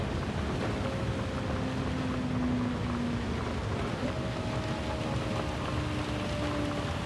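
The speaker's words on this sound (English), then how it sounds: "That's raining again." Rain hisses in a racing video game at Watkins Glen. The wash is steady and continuous, with faint engine tones humming underneath.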